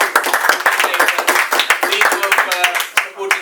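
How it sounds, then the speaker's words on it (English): A small group at a cricket club presentation party claps enthusiastically at close range, quick uneven hand claps with voices mixed in under the applause. "I think he deserves a round of applause"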